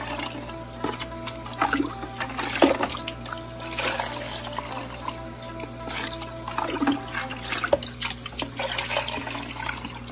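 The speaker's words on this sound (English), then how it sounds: "Just gonna give this part a little rinse." A filter cartridge is rinsed under running water, giving a steady close splashing and trickling with irregular drips and gurgles that last the whole stretch, with no talking over it.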